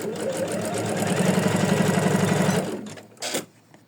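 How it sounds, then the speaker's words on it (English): An embroidery machine runs steadily while stitching quilting stitches on an in-the-hoop floral ornament, a close, even mechanical hum with a rapid regular pulse that stops after about two and a half seconds, followed by a few faint clicks. "next we need to stitch the quilting stitches"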